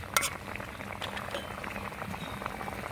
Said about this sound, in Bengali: সবজিটাতে বলক এসেছে